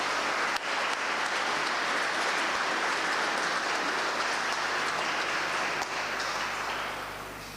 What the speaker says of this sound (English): Please can I have a round of applause?